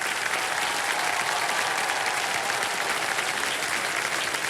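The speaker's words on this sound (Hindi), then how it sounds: "तो जोरदार तालियों से स्वागत कीजिए" A large studio audience on a television quiz show gives loud, sustained applause to welcome a guest, a dense, unbroken wash of clapping with no voices.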